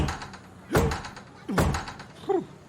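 A battering ram strikes a door in three heavy, close thuds roughly three-quarters of a second apart, each a sharp booming impact with a creak or rattle of the door afterward.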